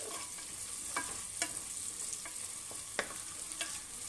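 Ground masala paste fries in oil for mote sambar, a faint, steady sizzle with a few soft taps of stirring, heard close with no voices.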